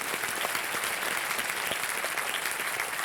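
An audience in a quiz show studio breaks into steady, even applause, a dense wash of many hands clapping without pause for the whole stretch.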